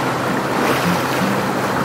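Glacial river water rushing in a steady, loud, close broadband roar, with no pauses and no voices.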